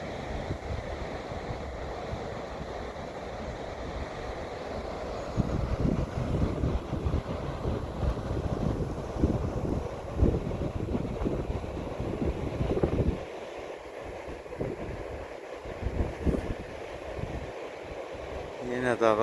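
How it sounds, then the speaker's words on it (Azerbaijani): Cold wind blows across an open mountain meadow, buffeting the microphone in strong gusty rushes that swell and ease, with a person talking in places. "Yenə dağa tərəf acı külək əsməyə başladı."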